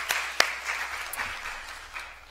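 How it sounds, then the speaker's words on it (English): Audience applause for panelists at a #MeToo panel event: a crowd claps steadily with a few sharper individual claps standing out, moderately loud and fairly close. "I would like to ask you to give them a round of applause for"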